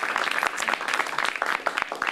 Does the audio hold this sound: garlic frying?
no